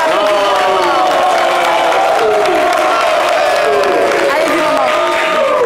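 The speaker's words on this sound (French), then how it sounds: "Maman, qu'on applaudit." Crowd at a live French-language radio show in Côte d'Ivoire cheering and clapping for a woman called up to the stage, a dense, continuous roar of voices with whoops over steady applause.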